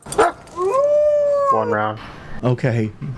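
A dog howls in Call of Duty, one rising drawn-out howl followed by short yelping cries, loud and close, with people talking briefly before and after it.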